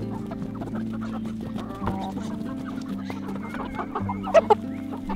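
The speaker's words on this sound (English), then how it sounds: "When the chickens are hungry like this" Hungry free-range homestead chickens cluck steadily up close, a dense overlapping flock chatter with a couple of sharper squawks near the end.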